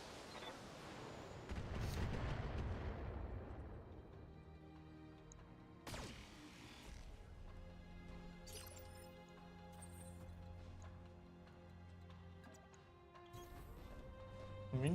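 Heavy mech weapons in the game BattleTech fire at a turret: a deep booming blast, then a sharp second volley and further cracks with ringing, decaying tails, rendered as loud cannon-like game effects without talk.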